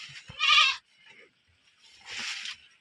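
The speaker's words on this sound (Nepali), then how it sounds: "यिनी बाख्रा त हाम्रा त छैनन्" Goats bleating in a village, two loud close bleats separated by a short quiet pause, with no talking.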